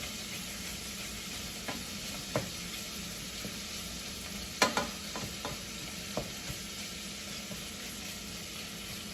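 Bacon frying in a pan on a stove for yellow rice, a steady close sizzle with a few scattered sharp clinks and stirring knocks, no voices.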